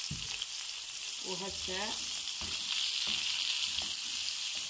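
Broad beans (baqilla) toast in a frying pan with a constant bright hiss, while occasional light scrapes of stirring and a brief chirping tone come through. A short spoken word is heard.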